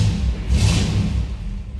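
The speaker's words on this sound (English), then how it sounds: "283 has a nice rumble to it." The 283 V8 of a 1959 Chevrolet hardtop sport coupe idles with a steady, loud low rumble that holds evenly throughout, with a brief hissy swell partway through.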